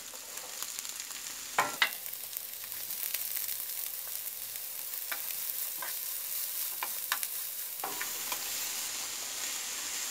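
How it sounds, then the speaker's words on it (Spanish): Chopped vegetables, including onion, chile and tomato, sauté in two tablespoons of hot oil in a skillet for beef machaca, with a continuous close sizzle and occasional stirring clicks from the utensil. "ahora sí vamos a poner a sofreír la verdurita"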